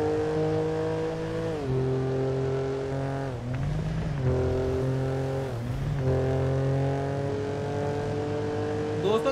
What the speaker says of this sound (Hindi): चलो भाई थोड़ा सीरियस लेवल पे चलाते हैं गाड़ी